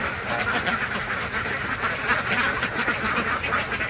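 Ducks quack steadily and close by while eating beetle larvae, a dense, continuous overlapping chatter of many birds that lasts the whole stretch with no pauses.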